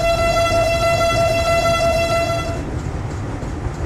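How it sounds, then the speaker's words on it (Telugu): Vande Bharat Express train rolling in the game Train Simulator Classic: a steady low track rumble under a sustained high tonal whine that cuts out near the end, leaving the rumble alone. Nobody speaks. "ట్రాక్ సౌండ్ అవన్నీ బాగానే వస్తుంది"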